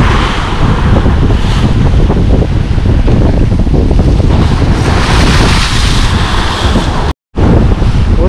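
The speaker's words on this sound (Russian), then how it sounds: "какие красивые были волны" Sea waves breaking on a Black Sea beach at Lazarevskoye, a loud continuous surf roar with heavy wind buffeting the microphone and a brief dropout near the end.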